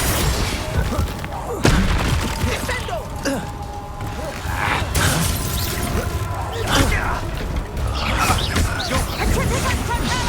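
Confringo fire spells blasting in Hogwarts Legacy on PS5, repeated booms and crashes over a dense battle soundscape, with a sharp hit near two seconds and game voices speaking throughout.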